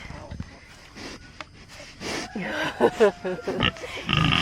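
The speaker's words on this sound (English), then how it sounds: "the roosters and a hen and the pigs are waiting to eat" Pigs grunt and snort close by in short, irregular bursts on a farm, with faint voices in the background.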